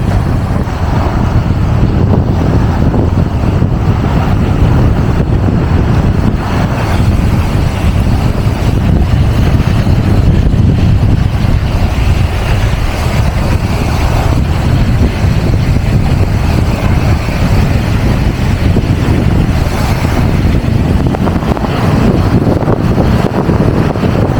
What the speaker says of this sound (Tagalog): Sarap lang ng hangin, lamig.